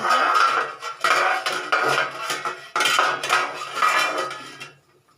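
A metal spoon clanks and scrapes against a cooking pot in repeated bursts while boiling food is stirred, fairly close, then stops.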